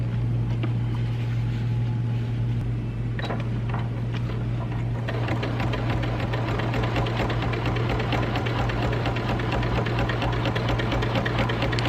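An Elna Elnita EF72 sewing machine stitches slowly through thick layers of fabric with a steady low mechanical hum and rhythmic needle thumping, close and continuous, picking up slightly in intensity partway through.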